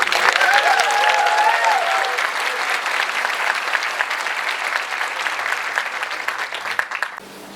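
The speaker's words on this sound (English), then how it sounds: "I would also like for all of us to give a round of applause to our parents," Audience at a Colorado university chemical engineering graduation ceremony applauds steadily, a dense sustained clapping with a few cheers that holds strong throughout before tapering slightly at the end.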